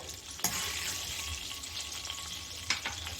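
Half a spoonful of cumin seeds frying in hot oil for an onion capsicum gravy, a close, steady crackling sizzle with a couple of sharper pops from stirring, no voices.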